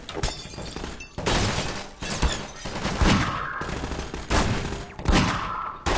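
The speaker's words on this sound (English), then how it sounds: "Who's shooting at me now?" Gunfire aimed at the player in Half-Life 2, heavy, overlapping shots and bursts mixed with shattering and crashing, loud and chaotic throughout.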